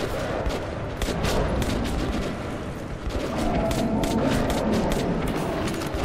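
Rapid gunfire from the video game Metro 2033 Redux as shots are fired at attacking beasts, a dense, continuous stream of bursts and booms filling the whole stretch at steady loudness.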